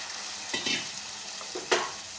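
Brinjal frying in hot spiced oil in a kadai for a Khandeshi brinjal-potato curry, giving a steady soft sizzle with a few brief louder bursts as pieces are stirred.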